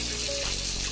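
Water runs steadily from a bathroom tap as it fills for washing, a close, loud, continuous rushing splash with no voices.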